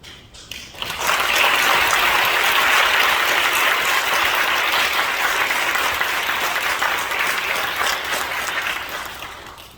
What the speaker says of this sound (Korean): 지방회장님 나오실 때도 한번 크게 박수로 환영해 주시면 좋겠습니다